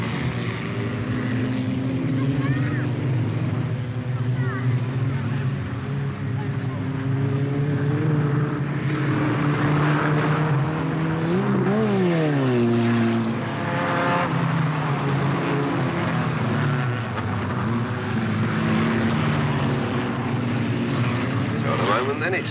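Junior stock cars at Alwalton Raceway in 1983 pull away from the flag at the first junior race, a dense roar of several engines with rising and falling pitch as they pass, under continuous commentary.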